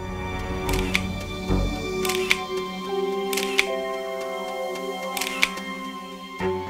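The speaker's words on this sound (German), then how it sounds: "schießen zahllose Fotos" An SLR camera's shutter clicks repeatedly at irregular intervals, crisp and close, several sharp snaps spaced over a few seconds against a faint background hum with scattered tonal noise.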